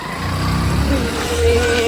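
A Hero Splendor motorcycle starts and pulls away toward the fields, its engine hum rising in pitch over two seconds, close and fairly loud with a little background voice.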